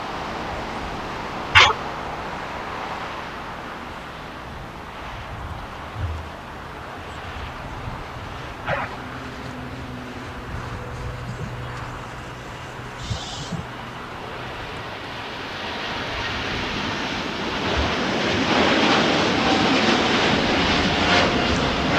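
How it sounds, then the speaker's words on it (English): A Lufthansa Boeing 747-8 takes off at LAX, its jet roar building from a distant rumble to a loud broadband wash, with a dog barking sharply a few times early on. "That, ladies and gentlemen, was our Lufthansa Queen. The beautiful 747-800 heading out to Frankfurt, Germany."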